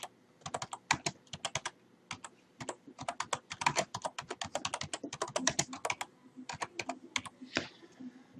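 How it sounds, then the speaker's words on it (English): Keys clatter on a computer keyboard as a short terminal command is typed, in quick uneven bursts of crisp clicks with small pauses between words. The typing is close and clear, with no talking. "I'm going to launch our terminal, and I'm going to type a simple command here"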